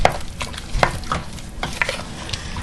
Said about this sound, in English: Give this a stir, and then we're going to bring this to a boil.